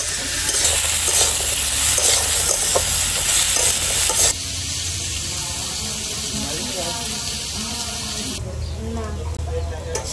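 Potatoes sizzle and crackle steadily in a hot pan, with occasional scraping and stirring, loud and close throughout.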